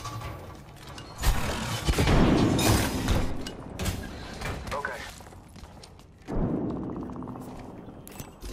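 Frag grenade blast in the shooter game Apex Legends: a loud broadband boom around the one-second mark rolls into a rumbling roar, followed by a second thump later, with voices talking over the action.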